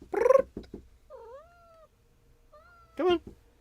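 Dottie, a pet cat, gives two loud close meows with a soft tonal trill between them, alone without talk.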